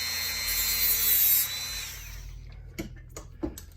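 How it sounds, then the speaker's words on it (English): Small mini chop saw cutting stock, a high whining spin-down lasting about two seconds that fades out, followed by a few sharp knocks and taps nearby. "I do have like a little mini chop saw behind me that I use."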